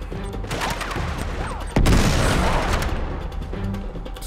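Pistol gunfire in Uncharted 3 comes as a dense, loud exchange of shots. One heavy, sharp crack lands midway, and the noisy firefight continues around it without clear speech.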